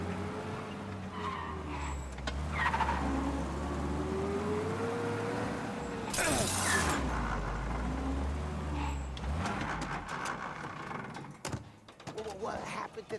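A car engine revs and drones through a 1930s-style city drive in Mafia: Definitive Edition, with tires squealing and skidding, gear shifts and bursts of acceleration, while characters talk over the ride.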